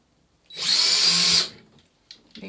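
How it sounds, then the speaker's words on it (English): A power drill driving a screw into pegboard whirs loudly for about a second, then winds down, followed by a few faint knocks. "Make sure your drill's going forward,"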